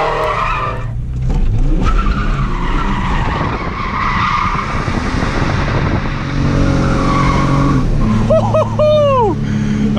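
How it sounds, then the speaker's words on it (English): A Ford AU Falcon drifting, with loud engine roar, sustained tyre squeal and skidding, and rising and falling revs that continue close throughout. "I'm just too excited to drift."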